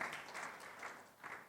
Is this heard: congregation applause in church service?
yes